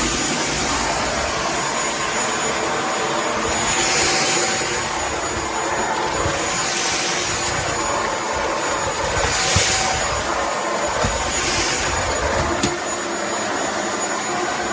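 A Shark PowerDetect Ultra-Light corded stick vacuum with DuoClean runs steadily over a dirty rug, a loud constant motor whine and airflow roar with slight swells as the head is pushed back and forth.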